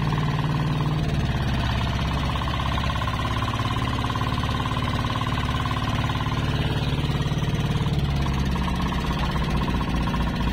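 A lone diesel engine runs on a boat heading toward Palawan, a loud, steady, rough mechanical chug that continues without pause throughout.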